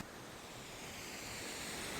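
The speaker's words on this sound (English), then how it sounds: "So we're right down the bottom of the waterfall now." A waterfall roars in New Zealand's Siberia Valley, heard from right at its base as a steady, broad rushing wash that swells slightly and stays constant throughout, with no talking.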